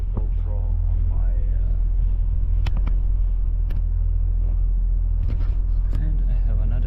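A truck engine rumbles low and steady as the truck is driven off, with a few sharp clicks and knocks over the continuous drone.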